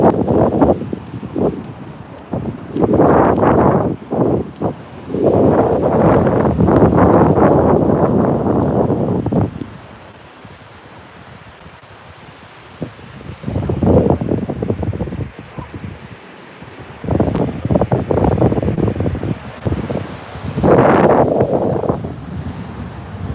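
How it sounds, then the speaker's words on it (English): Strong wind gusts buffet the microphone at a beach, roaring in loud bursts with a brief calmer lull in the middle, surf faintly underneath. "It's windy."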